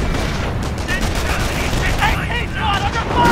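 Gunfire crackles through a Company of Heroes battle in Normandy at Montebourg, dense bursts layered under game voices and explosions, loud and continuous.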